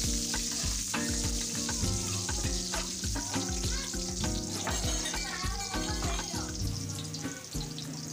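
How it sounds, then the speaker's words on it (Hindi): Cumin, star anise, bay leaves and curry leaves fry in hot oil for beef pulao. A loud, dense sizzle carries throughout, with repeated scraping stirs. "इसमें चला जाएगा कड़ी पत्ता, तकरीबन 10 से 12 पत्ते। इसको अच्छे से फ्राई कर लेंगे हम।"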